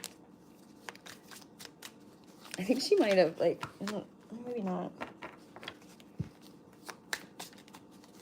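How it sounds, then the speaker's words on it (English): A deck of cards is shuffled in a quick riffle burst of crisp, rapid flutters, followed by softer handling noises, while someone speaks casually nearby. "Okay, I'll just do shuffle quick."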